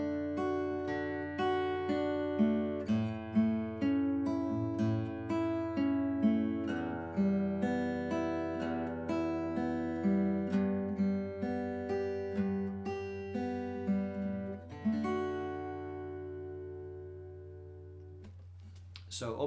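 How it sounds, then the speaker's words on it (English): Fingerstyle acoustic guitar picking a steady repeating thumb-index-middle-ring then thumb-ring-middle-index arpeggio pattern through a chord progression, clear and close, ending on a ringing chord with no talking. "So P-I-M-A, P-A-M-I."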